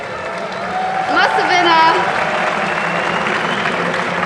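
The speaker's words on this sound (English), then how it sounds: "all these people here, they cheer for us" A crowd cheers and applauds throughout a hall at the Gamescom 2013 esports event, a steady roar of many voices and clapping that swells briefly and then holds, with someone talking over it.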